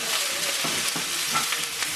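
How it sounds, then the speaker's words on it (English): Sweet peppers, onions, scallion and garlic sizzle in a hot pan, a steady soft frying hiss with faint scraping stirs, no talking. "I'm gonna saute this and extract as much flavor from it as possible"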